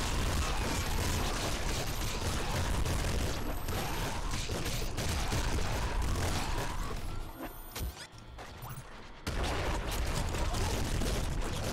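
Dense, continuous gunfire and crashing impacts from the video game Nuclear Throne, with a brief dip in the din before the loud barrage resumes.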